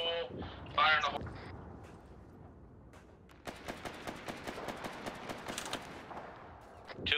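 Demolition charge detonating in a tactical shooter game, followed after a pause by a long run of sharp gunshot bursts at mid distance, with brief voices early on.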